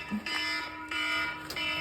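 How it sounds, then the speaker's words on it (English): A kitchen timer for cooking noodles sounds in repeated short electronic beeps, three evenly spaced pulses, fairly faint against a quiet room. "that is the timer for our noodles to be done"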